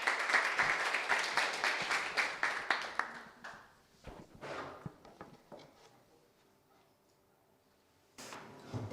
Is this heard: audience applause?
yes